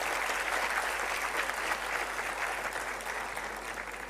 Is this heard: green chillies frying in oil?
no